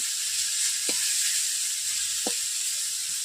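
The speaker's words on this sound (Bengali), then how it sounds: "এইভাবে আমি মেলে দিচ্ছি ভাজার জন্য" Malabar spinach stems with turmeric frying spread out in a pan, giving a steady close sizzle and hiss throughout, with two brief soft knocks of a spatula.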